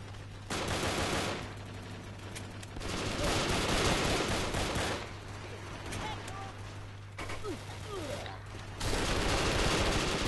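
Pistol gunfire in the Brick Force video game during a firefight, with repeated sharp shots in bursts over a constant background hum and game noise, and voice chatter mixed in.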